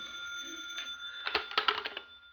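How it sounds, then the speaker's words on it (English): An old telephone rings in a 1950s Scotland Yard office in a radio drama, with a short burst of rapid bell trills rising after a faint buzz, moderately close, with no talk over it. "The telephone was ringing as I came in."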